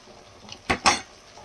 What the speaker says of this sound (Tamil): இப்போ ஒரு தக்காளி போட்டுக்கலாம்.